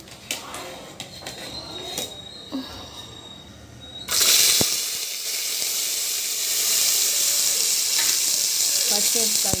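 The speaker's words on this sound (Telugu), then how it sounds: "నువ్వులు చిట్టపట్టలాడే వరకు వేయించుకోండి" Sesame seeds frying in a spoonful of oil, with light stirring taps and faint background hum at first, then a sudden loud, steady sizzle and hiss that continues to the end, close up and without talk.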